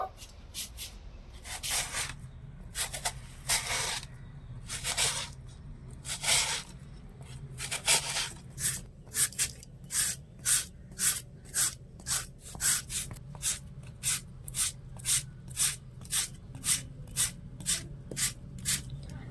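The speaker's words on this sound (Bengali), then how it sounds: "এবার আমি এখান থেকে আলু নিয়ে গ্রেট করে নেব" A potato grated lengthwise on the small holes of a hand grater, first in a few slow scrapes, then in a steady, even run of close, rhythmic rasping strokes.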